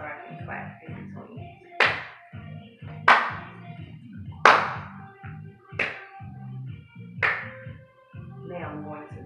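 Hand claps and the smack of a ball being caught ring out at a steady pace during a P.E. tossing-and-catching drill. Each sharp hit stands out clearly over a person talking throughout.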